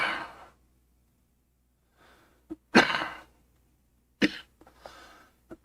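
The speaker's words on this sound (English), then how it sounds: "I don't know what's going on with all that coughing today." A person coughs several times indoors in short separate bursts with quiet gaps between them, fairly close and moderately loud, with a sniff or breath between coughs and no talking.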